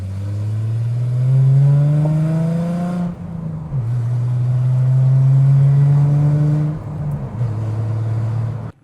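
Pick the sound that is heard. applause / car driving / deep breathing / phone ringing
car driving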